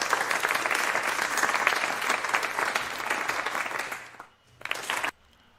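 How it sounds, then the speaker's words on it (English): Audience applause for a chess player at an online junior chess tournament, steady dense clapping for about four seconds, then fading, a short final burst and silence. "Round of applause for Chess Kid PGH"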